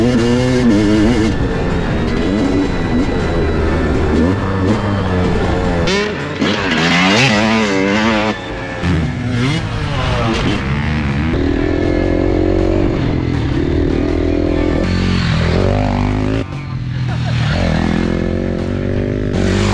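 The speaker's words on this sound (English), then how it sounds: "But now we're at Dirt Bronco, getting some track time, getting Logan used to the bike, so let's get it." Dirt bikes riding on a dirt track at Dirt Bronco, engines revving up and down with repeated rising and falling whines, loud and close at times and more distant at others, with no talk.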